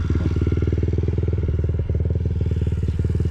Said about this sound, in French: Allez c'est parti, on va les mettre en route.